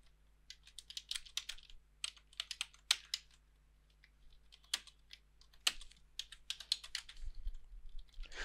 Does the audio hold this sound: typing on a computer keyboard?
yes